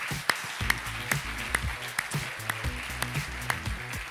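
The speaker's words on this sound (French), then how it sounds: "On peut vous applaudir très fort." Audience at a national science competition awards ceremony applauding the participants, steady moderate clapping beneath a rhythmic musical beat with regular sharp accents.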